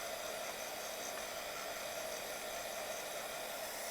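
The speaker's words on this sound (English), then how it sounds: "If you don't have one of these heat guns, they're really great." A heat gun blows steadily on watercolor paint, giving a constant airy whoosh of hot air. It is close and fairly quiet, holds an even level throughout, and no one speaks.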